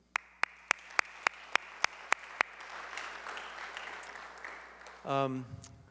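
Applause from the audience at a farewell reception and dinner, following a run of sharp, evenly spaced single claps that swell into a broad wash of clapping; a voice begins speaking at the end.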